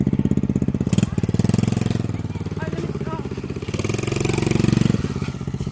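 A dirt bike engine runs loud and steady, its rapid firing pulses revving up and down close by, with brief dips in pitch as the throttle eases.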